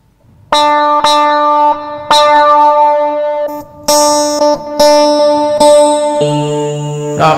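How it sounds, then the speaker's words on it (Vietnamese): Boss GT-100 guitar multi-effects unit set to a cat-like patch, producing several sustained, gliding guitar notes that whine and bend like meowing, loud and close with no talking. "Đây là tiếng mèo. Đó tiếng mèo nè các bạn."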